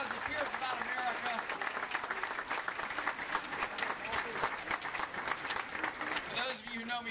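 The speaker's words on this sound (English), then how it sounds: "So let's give him one more round of applause." Sustained crowd applause at an outdoor political rally on a lawn, a dense patter of many hands clapping continuously for several seconds, with scattered cheers and voices mixed in.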